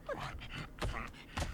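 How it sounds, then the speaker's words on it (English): A Bulb Dog creature in the video game Ark, heard as short panting and yipping dog-like vocal bursts in a quick rhythm, close and fairly loud, with no talk. "supposedly, there's a Bulb Dog right there."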